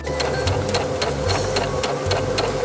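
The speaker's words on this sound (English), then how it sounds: "we're going to sew those with a 1/4 inch seam" A sewing machine runs steadily as it stitches light and dark fabric squares together with a quarter-inch seam for half-square triangles. A loud, close, continuous mechanical whir carries a rapid, even rhythmic needle tapping, with no talking.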